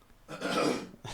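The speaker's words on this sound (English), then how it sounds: "I have to clear my throat." A man clears his throat mid-conversation during a baseball podcast, giving one short, rough guttural burst with a brief quieter follow-up, close to the microphone.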